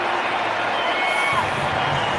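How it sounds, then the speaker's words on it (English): A baseball stadium crowd cheers after a game-tying base hit during a Cardinals vs. Cubs MLB game: a dense, steady roar holds at a loud level for the whole stretch without a break. "Listen to this crowd."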